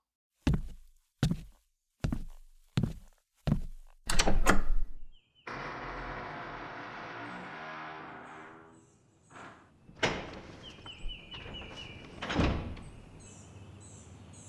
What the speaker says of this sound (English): pushed open the front door.